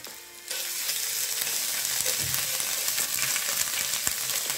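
Chili paste and ginger-garlic paste fry in a hot pan for Rajasthani gatte ki sabji, with a dense, steady sizzle that rises abruptly after a brief quieter start and continues with faint stirring clicks.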